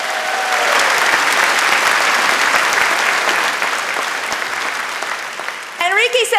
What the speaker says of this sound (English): Give Enrique a round of applause.